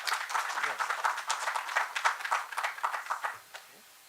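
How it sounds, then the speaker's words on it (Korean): Audience applause for a visiting American professor introduced at an international temple-food symposium, a steady wash of clapping from a crowd that fades out toward the end. "큰 박수 부탁드리겠습니다"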